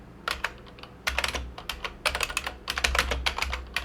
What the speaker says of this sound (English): I'm going to open up the terminal again, and I'm going to do sudo Flatpak